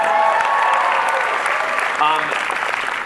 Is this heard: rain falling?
no